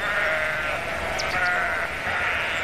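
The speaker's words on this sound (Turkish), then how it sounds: "Senin koyunlar yolu tıkıyor Harry" Sheep on a road in a 1953 western, with steady bleating from the flock over a dense, constant background hiss and no speech.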